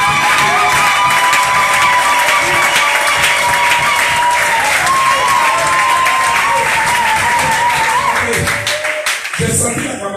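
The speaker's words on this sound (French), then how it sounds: "J'ai senti l'acclamation" A church congregation applauding and cheering in acclamation, sustained dense clapping with voices calling out, loud and close, tapering slightly near the end.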